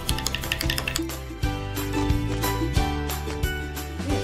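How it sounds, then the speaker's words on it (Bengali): Yogurt mixed with sugar and salt is whisked briskly in a bowl, producing rapid rhythmic clicking and tapping against the sides, with a few louder knocks throughout. "এখন এটাকে আমি ফেটবো।"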